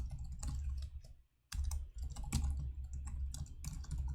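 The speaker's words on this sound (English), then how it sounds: "It's just all typing at this point" Continuous typing on a computer keyboard while coding a Leetcode problem, rapid clicking keystrokes with a brief pause midway, close and quiet.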